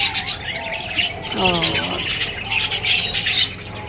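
Pet parrots squawk and screech near the nest boxes they nest in, with harsh bursts over steady background chatter and someone speaking softly at times.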